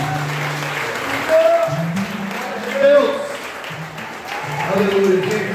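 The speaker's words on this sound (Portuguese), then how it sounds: "Aplauda Jesus pela vida do profeta" Congregation applause in a Brazilian Pentecostal church service, a steady wash of clapping with voices calling out and talking over it throughout.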